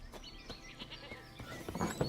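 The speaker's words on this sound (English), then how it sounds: "Goat." A goat bleats faintly in The Witcher 3: Wild Hunt video game, its wavering cries repeating over a low bed of ambient game sound.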